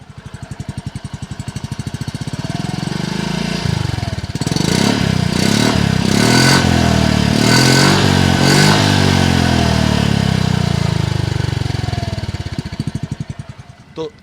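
Yamaha Fascino 125 scooter engine idling close up, then revved in several rising and falling bursts before settling back to a steady idle, with no talk over it.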